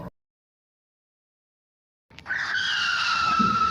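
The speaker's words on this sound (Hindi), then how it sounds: "अरे ये तो उनके आने की आवाज है गाड़ी की," A car pulls up after a stretch of silence, a steady engine and tyre sound rising abruptly and holding at moderate loudness with no voices.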